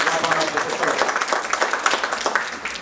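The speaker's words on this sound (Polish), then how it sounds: "Jeszcze raz duże brawa tutaj." Audience applause at a conference at an oncology and traumatology centre in Łódź, Poland, a dense, steady patter of clapping filling the room, with some voices mixed in.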